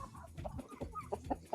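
A chicken clucks close by in a quick, uneven series of short notes, with soft rustling between the calls.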